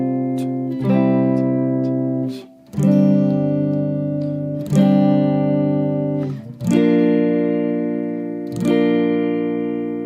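An electric guitar plays a line from a song, sustained chords ringing out loud and close, changing every two seconds or so with a pick attack marking each change, alone without voices.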